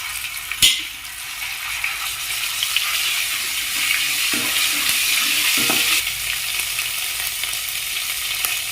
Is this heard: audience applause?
no